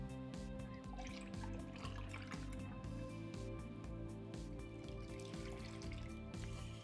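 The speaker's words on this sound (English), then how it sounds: "I'll measure 2 cups of cold milk into the pot." Cold milk is poured into a pot holding cornstarch in a home kitchen, making a soft steady liquid trickle and drips beneath continuous background music.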